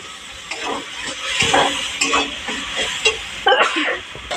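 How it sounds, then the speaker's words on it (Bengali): Ground poppy seed paste poured into a pan and stirred, a soft scraping and sloshing with a few spoon taps against the metal, near and fairly quiet with no talk. "এই যে পোস্তগুলো ঢেলে দিলাম।"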